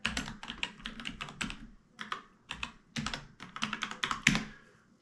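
Someone types a password on a computer keyboard in quick, irregular bursts of close, crisp key taps with short pauses between them, and no one speaks.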